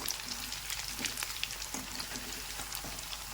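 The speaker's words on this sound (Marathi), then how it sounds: "आलो असे असेच गुलाबी गुलाबी फ्राय होऊ द्यायचे आहेत आपल्याला" Potato chunks for dum aloo fry in oil over a gas flame at full heat, a dense, constant sizzle with light crackles running the whole time.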